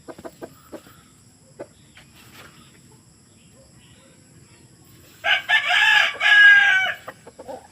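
A gamefowl rooster of Sweater or Kelso breeding lets out one loud crow late on, after scattered clucks and soft chirps in a quiet yard, with faint insect sounds behind.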